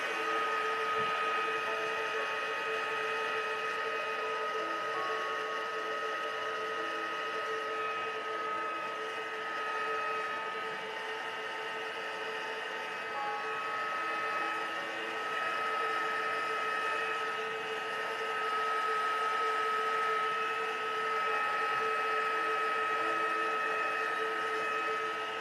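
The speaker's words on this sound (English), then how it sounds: "I'm using a craft dryer" A craft dryer drying watercolour paint on paper: a loud, steady whining blower hum with a constant tonal pitch, running without pause and close up throughout.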